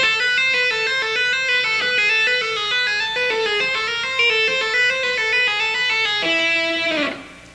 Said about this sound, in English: So that lick, tapping-wise, could sound like this.